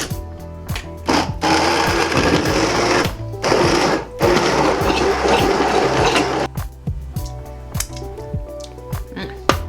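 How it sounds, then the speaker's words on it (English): An immersion blender chops tomatoes and garlic in a jar, its loud motor whirring in bursts broken by short pauses, with rattling as the blade strikes the contents. "And then I'm gonna take my immersion blender and I'm gonna chop this all up."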